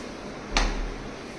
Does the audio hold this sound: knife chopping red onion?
no